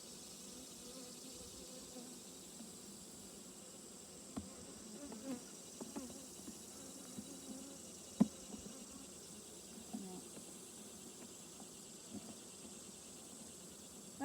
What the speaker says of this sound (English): Look at all the bees.